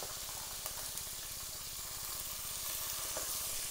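Chopped onions fry in hot oil in a pan for biryani, giving a steady, close, continuous sizzle with faint crackles and no talking.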